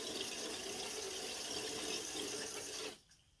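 Rushing water flushes through a home water filtration system as the lines are purged, a steady loud hiss of flow from a tap that stops abruptly near the end, with no voices.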